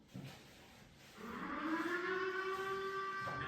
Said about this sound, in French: Débute avec les sirènes de la ville d'Arras.